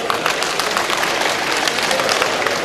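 Audience applause at an official installation ceremony of a Nigerien community bureau in Benin, a dense, steady wash of clapping from a crowd, sustained and fairly loud throughout the short stretch.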